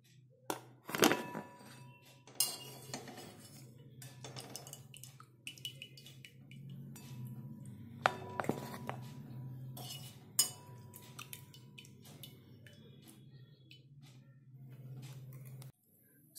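Boiled pieces of suran (elephant foot yam) are lifted from a pan onto a plate in a kitchen, giving a few close thunks and light clinks of utensil on dish over a low steady background hum.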